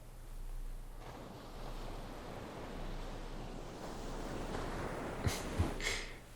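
Ocean surf washing steadily in open water far out at sea, a continuous broad rush with a soft wind-like hiss and a few brighter splashes near the end.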